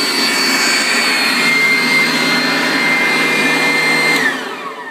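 A homemade fume hood fan for precious metal refining runs loud and close, pulling vapor from a flask with a steady roaring whoosh and a faint high whine, then starts to wind down at the end.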